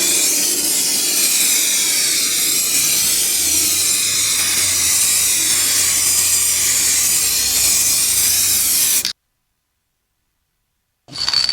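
Spray paint can hissing steadily as coats go onto the roof of a Toyota Land Cruiser 80 series, a loud continuous close spray for about nine seconds, then a sudden stop and a brief restart.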